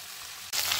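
Potatoes and taro drop into a pan of frying masala, and the low background sizzle bursts into a loud, bright crackle that holds steady after they land.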